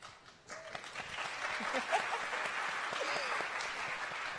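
A conference crowd at a tech summit breaks into applause, a dense wash of clapping that swells after a brief quiet moment and holds steady, with a few voices and cheers mixed in.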